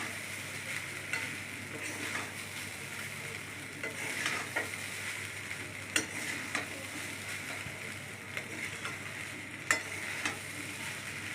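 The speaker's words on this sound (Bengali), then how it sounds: "ভালো করে নেড়ে চেড়ে মশলাগুলো সব কিছুকে ভাতের মধ্যে ভালো করে মিশিয়ে নিলাম" Mango rice with spices is stirred and turned in a pan, giving a steady soft sizzle with scraping strokes and a few sharp utensil clinks against the metal.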